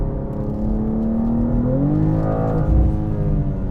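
A 2024 BMW M2 engine hums steadily, then revs up with a rising, throaty exhaust note that swells briefly before settling, loud and close.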